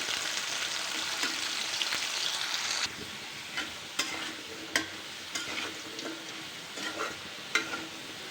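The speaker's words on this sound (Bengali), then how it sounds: "আলুগুলোকে ভালো করে ভাজবো আজকে।" Potatoes fry in a pan with a loud, steady sizzle that drops quieter after a few seconds, then spatula taps and scrapes land at irregular intervals over the softer crackle.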